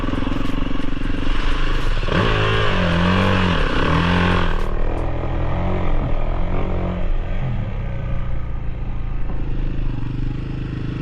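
A 2023 Kawasaki KX450 dirt bike labours through deep mud, its engine loud and close with rising and falling revs, clattering and churning before the note thins out as it bogs down.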